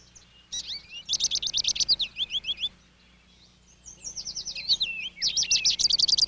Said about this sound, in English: Niger seed is savored by all the finches.